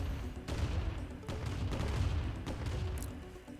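Turret and buggy gunfire in a Command & Conquer Remastered battle, a series of quiet, rapid bursts of shots with brief gaps between volleys.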